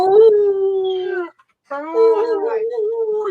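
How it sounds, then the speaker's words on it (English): A dog whimpers on hearing a familiar voice, giving long, high, wavering whines close by. Two drawn-out tonal phrases are split by a brief pause. "You start making that noise, and Rocky started whimpering."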